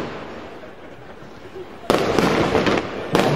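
Fireworks explode at a gala night, with a loud burst of crackling bangs that starts suddenly and continues, then a second burst near the end, over faint background murmur.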